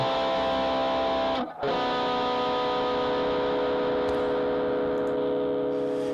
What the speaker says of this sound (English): and with some extra distortion